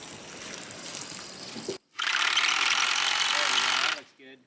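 Power drilling into a house foundation to set extra anchor bolts for a sill plate at a prefab home build: a loud, steady grinding burst, a short gap, then a longer sustained run that cuts off, with a brief rattle at the end.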